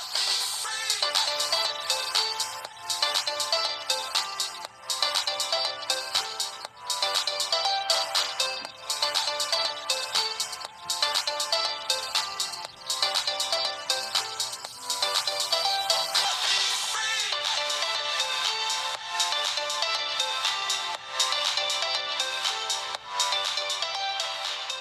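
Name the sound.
Tecno Camon 16 Premier phone mono speaker playing audio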